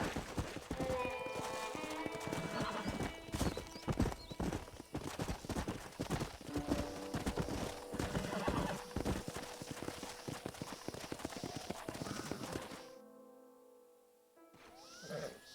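Horse hooves clip-clop steadily through the Red Dead Redemption video game scene, with an occasional whinny and game ambience, before the sound drops away near the end.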